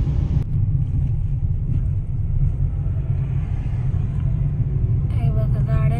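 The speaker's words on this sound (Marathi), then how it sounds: "आवाज पण बराच कमी येते गाड्यांचा." Light road traffic near Nizwa: a low, steady rumble of a few cars rolling past, with a voice talking over the engine noise.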